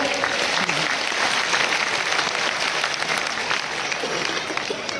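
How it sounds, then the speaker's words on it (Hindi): A large crowd at a packed Bhagwat religious discourse in Bilaspur claps steadily and loudly, a dense sustained roar of applause filling the whole stretch without a break. "एक बार जोरदार तालियां।"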